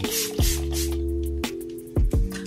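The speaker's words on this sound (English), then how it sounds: "Let me go and put in a little bit more setting spray." Makeup setting spray is misted onto a face in several short bursts, two spaced puffs followed by a quick double spritz, close and crisp over a low steady hum.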